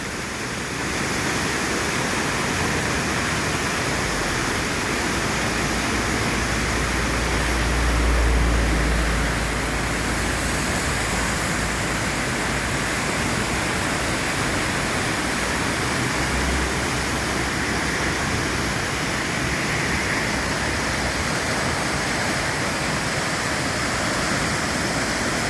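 Raging floodwater of a swollen river after a historic California storm, pouring over a flooded golf course in a steady, loud, continuous roar with no talk.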